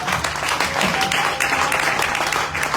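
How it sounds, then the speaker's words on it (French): Applause for a doctor during a Sunday church worship service, a steady wash of clapping from the congregation held at an even level throughout, with a faint low hum underneath. "Applaudissez pour le docteur."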